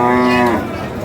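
A bull or cow lows loudly and close by at a busy cattle market, one long drawn-out moo filling the first half before fading into crowd murmur.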